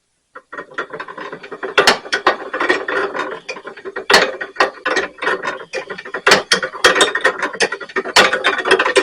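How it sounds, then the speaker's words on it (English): A wiper motor drives an inertial drive mechanism set on rollers, giving a loud, continuous mechanical clatter of ratcheting clicks and gear rattle, with sharp knocks recurring throughout and no voices. "The motor is too weak. The wiper motor is not what we need to use on this."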